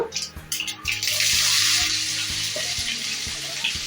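Cumin, mustard seeds, dried red chillies, garlic and onions fry in hot oil for lady's finger fry, giving a steady close broadband sizzle with a few soft knocks of stirring and no talk.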